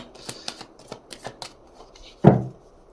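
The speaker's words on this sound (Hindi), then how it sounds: "मैं कुछ टैरो कार्ड निकालती हूँ आपके लिए।" Tarot cards are shuffled and drawn close up, with a run of light, crisp riffling taps followed by one louder slap as a card lands, with no voices.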